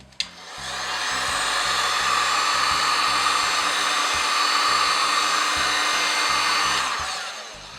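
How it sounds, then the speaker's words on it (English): A heat gun blows steadily for several seconds, drying a thin layer of body filler on a pepakura piece; a continuous, fairly loud hot-air roar with a whine, alone without talk, starting after a click and cutting off near the end. "if you have a hit gun, hit that piece with hit gun."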